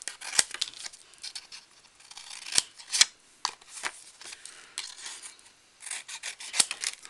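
Scissors snip through cardboard to cut out a roof piece for a small handmade Christmas house, a series of close, crisp cuts and rustling scrapes with short pauses between strokes.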